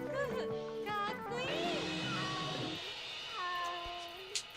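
A cat meows in the video game Final Fantasy XI, several plaintive mewing calls rising and falling over layered, sustained game music and ambient tones, fairly quiet overall.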